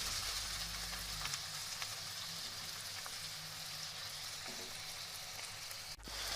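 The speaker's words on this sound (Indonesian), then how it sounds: "Masak wortel sampai setengah matang." Carrots cook in a pan with a little water, a faint, steady hiss and simmering sizzle running unbroken throughout, with a brief soft clink near the end and no voices.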